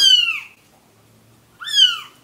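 A white-turned-black cat meows twice, close by, with two distinct rising-falling calls separated by a short pause.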